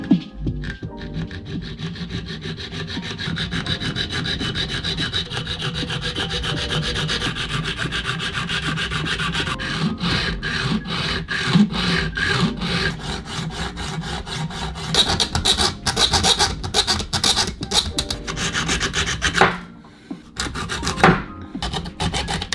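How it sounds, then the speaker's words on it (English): A hacksaw cuts through puppet armature tubing in steady back-and-forth strokes, a continuous rasping scrape that runs the whole time with a brief pause near the end. "For this video, however, I'm going to be using a hacksaw."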